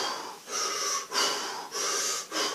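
A voice mimics rapid over-breathing while swimming, producing four harsh wheezing pants in a steady rhythm, close and loud.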